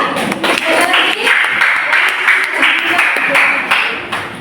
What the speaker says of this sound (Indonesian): Tepuk tangan untuk kita ya